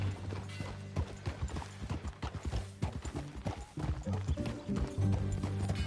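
Horse hooves clip-clopping while being ridden, a close, uneven series of hollow knocks layered over soft creaking tack and background rumble.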